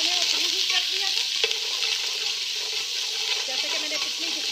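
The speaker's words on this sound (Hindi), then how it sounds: "लहसुन के साथ ही मैं इसके अंदर अपना अदरक ऐड करूँगी। थोड़ा सा इसको फ्राई करूँगी।" Garlic and ginger fry in a preheated pan, a steady bright sizzle with light stirring scrapes running continuously and fairly close throughout.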